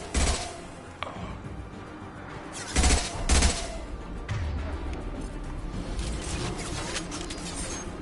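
Gunfire in the Mass Effect 2 video game: several loud, close bursts of shots stand out in the first half, then a dense, continuous rattle of weapon fire and battle noise carries on to the end, with no speech.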